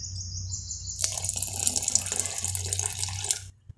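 Water streams into dosa batter for paper dosa, a steady close splashing pour that starts with a sharp onset and runs for about two and a half seconds before stopping.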